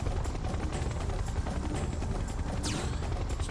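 Loud, constant rotor thrum of a helicopter flying overhead in the shooter game Serious Sam 3: BFE, with a dense low rumble that runs through the whole clip and no speech.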